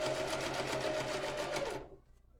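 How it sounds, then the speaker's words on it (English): A sewing machine runs fast and steady, stitching a seam on a fabric water bottle holder, then stops abruptly near the end, loud and close. "I'm just going to sew all the way down."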